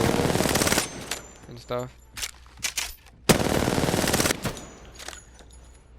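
Rapid automatic gunfire bursts in the video game Apex Legends, loud and close, coming in several separate volleys with short gaps, and someone speaks briefly between them.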